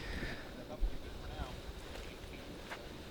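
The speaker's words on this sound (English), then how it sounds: "That wind is ripping." Strong wind sweeps across a hilly disc golf course, a continuous roaring gust noise buffeting the microphone throughout.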